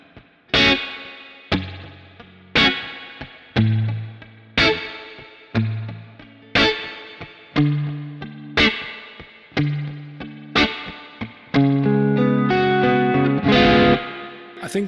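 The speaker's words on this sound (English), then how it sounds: "So in the rhythm guitar, there's this typical backbeat guitar sound." Rhythm electric guitar played through a Kemper Profiler in a typical backbeat pattern: loud, distorted chord stabs with chorus shimmer hitting on a steady beat, building to sustained chords near the end, with no talking.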